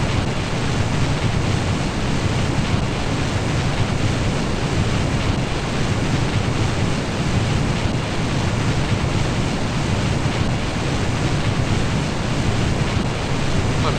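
A steady, dense roar fills the whole clip at constant loudness, rocket engines blasting continuously in the video game Kerbal Space Program with a broad rushing noise and no pauses.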